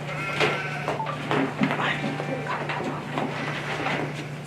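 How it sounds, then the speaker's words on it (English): Goats bleating in a few short calls over a steady low hum, close and moderately loud, mixed with scattered thumps and shuffling. "the troll came up with the goats."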